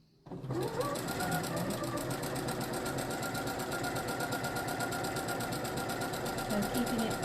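A sewing machine stitches fabric for a party skirt, running in a fast, even mechanical rattle that starts abruptly and continues close and steady throughout, with no one speaking.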